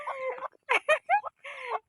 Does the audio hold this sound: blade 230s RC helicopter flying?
no